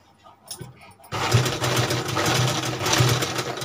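A sewing machine stitches across folded fabric sleeves, a steady close whirring run that starts abruptly after a moment of quiet and continues evenly to the end.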